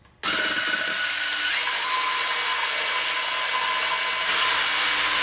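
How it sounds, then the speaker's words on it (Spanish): An electric mixer whips room-temperature egg whites with a pinch of salt for an orange and chocolate sponge cake, a loud, steady high-pitched motor whir that starts abruptly and runs on, its tone shifting slightly as the speed changes. "Añadimos una pizca de sal a las claras y empezamos a batir."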